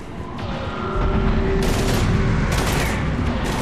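Dense firefight gunfire in Mass Effect 3, rapid overlapping shots and bursts hammering loudly and continuously in a chaotic battle, with a few sharper cracks standing out.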